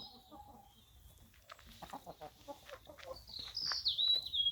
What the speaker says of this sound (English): And you can hear the bird song,